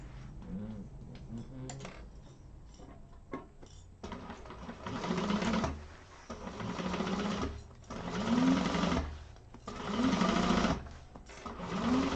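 A sewing machine runs in several bursts of rapid stitching, back stitching a few times, each burst a steady mechanical whir separated by short pauses, close and fairly quiet.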